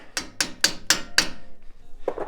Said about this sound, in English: Now we're just gonna take a little hammer